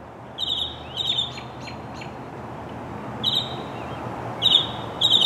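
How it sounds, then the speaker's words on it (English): A bird in the trees squawks and sings, giving five sharp, bright calls at irregular intervals over a faint, steady outdoor hush. "will sit there for about 2 hours and just keep talking, squawking away, making all kinds of noise."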